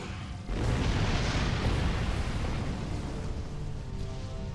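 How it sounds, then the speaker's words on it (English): Starship weapons fire and a heavy explosion in the space game Star Trek Online, with a sudden loud blast after a brief quiet, followed by a sustained rumbling roar that slowly fades. "after a brief exchange of fire"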